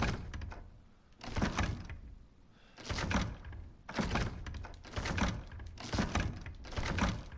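A door in the survival horror game Resident Evil 7 rattles and thumps in repeated bursts, about six heavy shaking rounds with brief pauses between them, loud and close with no talking.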